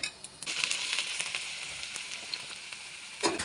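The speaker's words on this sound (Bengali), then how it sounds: "এখন আমি এখানে একটু কালো জিরা দিয়ে দিচ্ছি" Nigella seeds sizzling in hot oil after onion, garlic and chillies have been fried, a steady close hiss with faint crackles, swelling briefly at the end.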